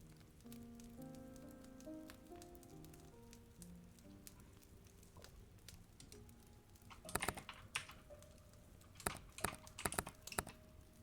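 Soft, quick key clicks from typing on a computer keyboard during an ASMR livestream, faint at first under a low tonal background, then coming in denser bursts of tapping toward the end, with no talk.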